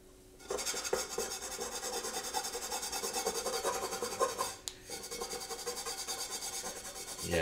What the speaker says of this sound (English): let me take this over to the sink and scrub this off too and see what happens